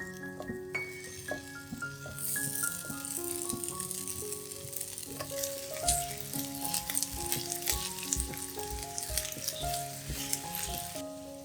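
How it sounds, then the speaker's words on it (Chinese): Sliced ginger sizzling in warm sesame oil in a pan for a vegetarian three-cup monkey head mushroom dish: a steady, bright frying hiss with light stirring rattles, heard close under continuous background music. "待油微热后放入姜炒香"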